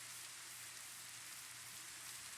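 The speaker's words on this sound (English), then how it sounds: "Wish it wasn't raining on my first video" Steady rain patters on surfaces in a video game, a faint even hiss with a low hum beneath, no voices.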